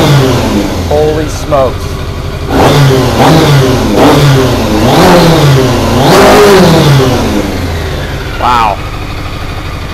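A 600cc motorcycle engine fitted in a crosskart revs up in repeated rising and falling bursts at close range after a piston replacement, while a person speaks briefly over it.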